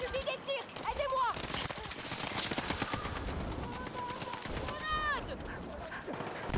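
Rapid automatic gunfire crackles in a chaotic Battlefield 6 firefight, bursts of machine-gun fire mixed with whistling, sweeping effects and shouted voices, dense and close throughout.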